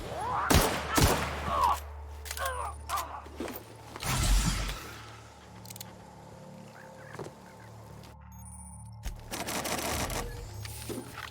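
Gunfire in a video game: several sharp bursts of shots and a heavier blast scattered through the span, with clicks and faint game effects between them and no talk over it.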